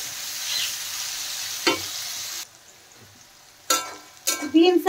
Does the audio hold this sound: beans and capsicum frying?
yes